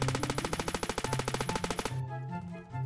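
Rapid automatic M16A3 rifle fire in a video game: a steady rattle of evenly spaced, punchy shots for about two seconds, then an abrupt stop leaving a low tonal hum.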